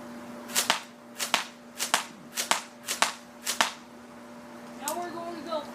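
Plastic airsoft gun with a metal gearbox and 30-round magazine firing at targets: about ten sharp, loud snapping shots, mostly in spaced pairs, followed by a faint rattle at the end.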